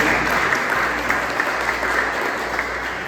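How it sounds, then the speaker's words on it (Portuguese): Church congregation applauding together at an evening service, a dense, steady wash of many hands clapping at moderate loudness with no pause. "Você pode dar uma salva de palmas ao Senhor?"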